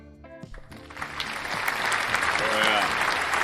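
A crowd at a slot car racing national championship breaks into applause that builds from scattered claps to a dense, sustained ovation, heard from a moderate distance.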